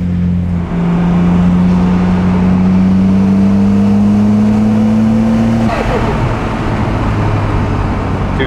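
A Nissan R32 GTR engine revs loud and close, pitch climbing steadily in one long pull before dropping off, with no one talking over it.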